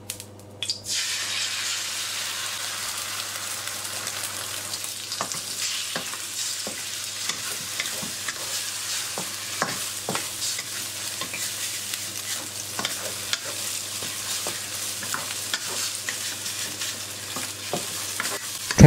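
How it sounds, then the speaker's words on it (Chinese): Eggs stir-frying in hot oil in a wok crackle with a steady sizzle while a spatula scrapes and taps the pan in irregular strokes, close and without any voices. "油热后倒淡盐翻炒，"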